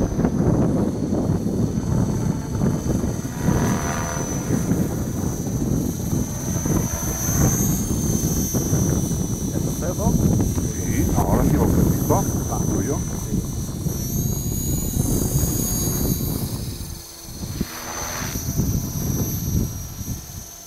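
An Align T-Rex 450X radio-controlled helicopter flies nearby with a continuous high-pitched motor and rotor whine that rises and dips slightly, while people talk throughout.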